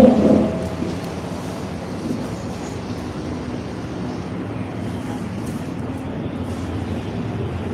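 Steady heavy rain pours continuously as an even broadband wash, loud and close, with no talking over it.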